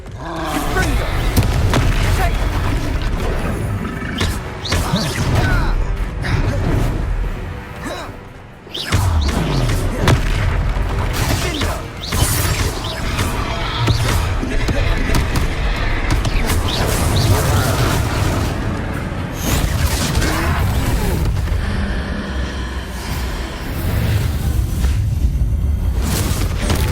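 Spell explosions from the Confringo fire spell during a troll fight in the Hogwarts Legacy video game, loud booming blasts and thuds layered with roaring and game music, sustained throughout with a brief drop partway.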